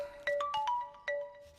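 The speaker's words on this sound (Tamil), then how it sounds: "அண்ணே ஃபோன்." Mobile phone ringtone playing a quick melodic sequence of bright, clean electronic tones, five or six notes in about a second and a half, loud and alone with no voices.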